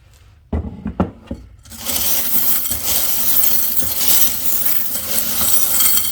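Several small charms clatter and knock as they are cast onto a surface during a tarot reading: a few sharp clinks, then a busier jumble of tumbling and settling pieces, close and fairly loud.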